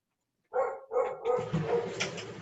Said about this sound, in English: Not a Zoom presentation unless there's a barking dog.